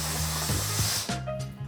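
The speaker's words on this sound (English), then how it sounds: "we can use our window nozzle with our steam cleaner to achieve the ideal cleaning result" A Kärcher steam cleaner fitted with a window nozzle hisses steadily against a glass shower screen, close and loud, with a brief break and shift in tone partway through and no talking.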